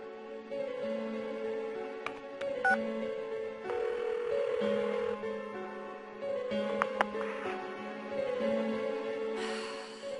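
A phone call from the video game Persona 4, a series of repeated electronic dial and ring tones in short pulses with brief pauses between, clean and moderately loud, ending in a small burst of static.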